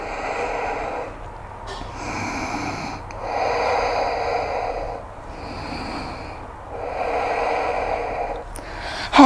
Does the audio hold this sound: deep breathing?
yes